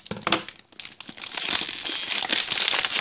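A plastic Doki Doki Squishy blind bag wrapper is torn open and crinkled up close, with sharp crackles at first followed by a denser, continuous rustle of foil-like plastic.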